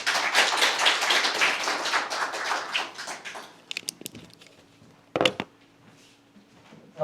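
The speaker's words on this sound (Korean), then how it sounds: "큰 박수 한 번 더 부탁드리겠습니다" An audience at a policy seminar of the Jeju Innovation Forum claps steadily for a few seconds, the applause fading into scattered claps and soft room sounds.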